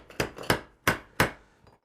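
Iron pieces held by small tack welds are knocked apart with a hammer: four sharp, close metallic blows at uneven intervals, then a faint final tap.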